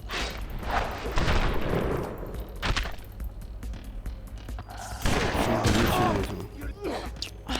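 Shotgun blasts in the video game BloodRayne Terminal Cut, several loud booming shots with rumbling tails among other game noise, a voice talking faintly underneath.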